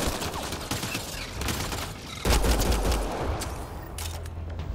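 Rapid sustained gunfire in Mass Effect: Andromeda, dense overlapping bursts of shots rolling continuously with a heavier, louder volley midway through, no talking.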